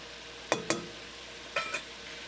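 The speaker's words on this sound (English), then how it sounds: "Now we're going to mix it because you want the jerk seasoning incorporated all through your onions and everything else" Onions with scallion and mild jerk sauce stirred in a pan, heard as two pairs of quick scraping strokes close by over a faint sizzle.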